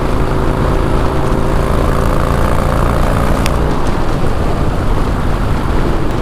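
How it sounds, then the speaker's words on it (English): Loud, constant engine drone and wind roar from a motorcycle moving at road speed while overtaking a semi truck, a broad steady rumble with no breaks. "So let's get past this freaking semi."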